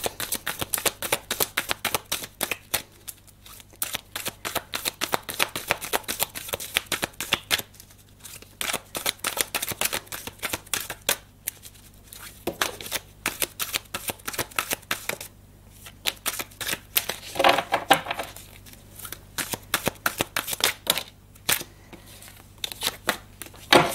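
A deck of tarot cards is shuffled close up in rapid, crackling riffles and flicks, repeated in bursts with brief pauses throughout, no speech.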